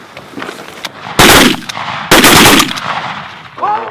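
Two loud, close gunshot blasts at geese about a second apart during a goose hunt, each with a booming tail, followed by a brief bird call at the end.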